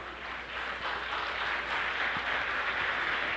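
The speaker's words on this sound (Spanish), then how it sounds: "no me aplaudan porque me van a quitar tiempo" Audience applause during a cultural winter lecture, a steady dense wash of clapping that runs the whole moment at moderate level with no voices.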